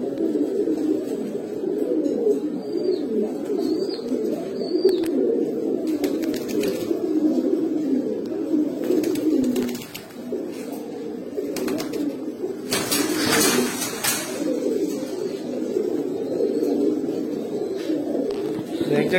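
A flock of caged pigeons, including Panki, Grizzle and Baghdadi Homa types, coos in a dense, continuous murmur close by, with a few faint chirps and brief rustles.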